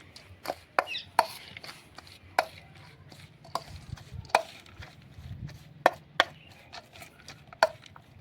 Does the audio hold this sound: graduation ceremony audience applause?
no